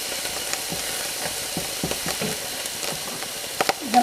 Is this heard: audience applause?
no